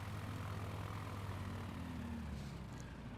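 Steady drone of a propeller airplane engine in the Farming Simulator 19 video game, a continuous low hum with a faint buzzing tone, even and unbroken, heard alone at low volume.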